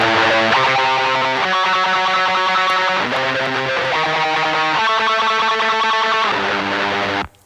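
A heavy metal guitar DI through a black metal distortion plugin, with thick, buzzing, sustained chords changing every second or so, loud and close, cutting off abruptly at the end.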